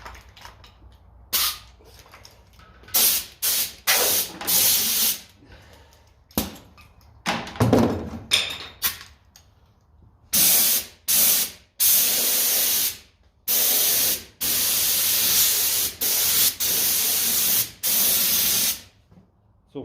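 Compressor-driven spray gun coating Ferguson 20 TEF diesel tractor wheels and rims: a string of loud hissing spray bursts, short and irregular at first, then longer sustained blasts separated by brief pauses, close up, no talk.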